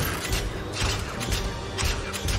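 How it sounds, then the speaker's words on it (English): Swings on a cartoon playground creak and grind in repeated pulses, about four cycles in a steady rhythm, noisy and mechanical, loud and close with no talk. "That noise is coming from the swings."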